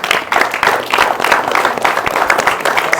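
Women applaud the organisers of the Moosapet Ki Maharani 2024 festival, a loud, close, dense round of clapping with sharp individual claps that holds steady from start to finish.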